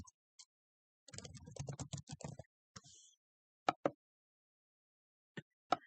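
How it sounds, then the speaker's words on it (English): Bursts of typing on a computer keyboard, a quick run of close, crisp clicks followed by scattered single taps and pauses, with no one speaking. "I'm going to type it again."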